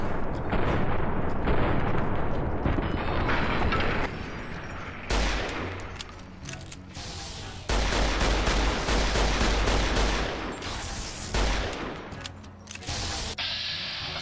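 Rapid bursts of gunfire in Fallout: New Vegas, loud and dense: volleys of shots with sharp, clipped onsets and sudden stops, several separate flurries over about fourteen seconds.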